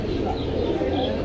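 Pigeons coo at a busy Jinjira bazaar pigeon market, soft low cooing blended into a dense crowd din with people talking nearby.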